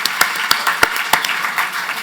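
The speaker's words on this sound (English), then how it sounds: "If we can have just another round of applause for everyone." An audience at an annual meeting claps, with a few distinct claps standing out over a bed of softer clapping during a short burst of applause.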